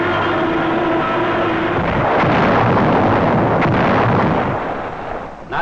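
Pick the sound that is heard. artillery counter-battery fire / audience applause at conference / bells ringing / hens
artillery counter-battery fire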